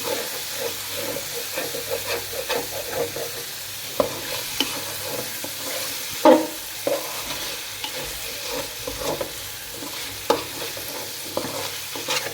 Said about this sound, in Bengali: আলুগুলোকে ভালো করে কষিয়ে নিচ্ছি